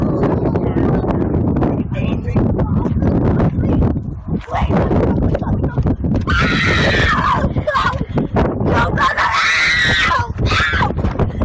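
A 12-year-old boy screams and shrieks at close range, loud and distorted, with harsh wailing cries and shouting over a noisy, clipping background.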